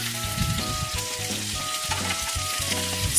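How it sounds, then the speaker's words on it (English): Capsicum and onions sautéing in butter over high heat give a close, steady crackling sizzle, brief and continuous, with no voices. "That's why we are sauteing them in butter."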